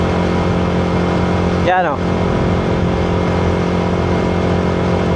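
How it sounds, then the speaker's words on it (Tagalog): A stock-engine Yamaha Sniper 155 motorcycle with an Uma M9 tune runs up close at a steady drone, with one quick rev near the start that rises then sinks back while someone talks throughout. "Tapos pag bitaw mo ng throttle, mabagal bumaba. Bababal bumaba yung RPM"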